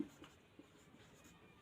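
Marker or chalk writing on a board during an English grammar lesson, soft scratchy strokes with small taps, quiet and close, with no talking.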